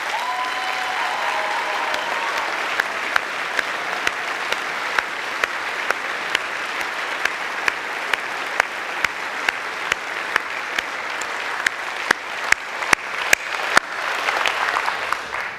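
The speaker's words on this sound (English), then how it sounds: "I think we owe them a very special round of applause" Sustained audience applause fills a university graduation ceremony, steady dense clapping from a large crowd with a few sharper claps standing out toward the end, no talk over it.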